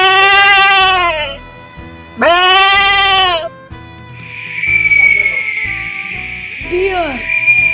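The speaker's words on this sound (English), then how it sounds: "Goat." A goat bleats twice up close, loud wavering cries each about a second long with a short gap between, followed by a steadier high tone and a brief rising call.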